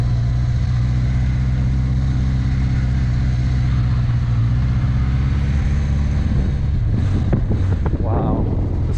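A 1982 Honda CB650 motorcycle with 1,800 miles idles with a steady low rumble, running for the first time in decades after its carbs were synced, then revs briefly near the end.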